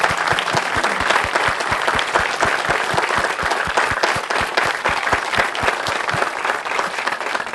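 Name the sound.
audience applause at Miracle League groundbreaking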